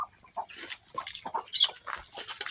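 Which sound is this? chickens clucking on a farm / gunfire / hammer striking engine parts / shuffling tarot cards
chickens clucking on a farm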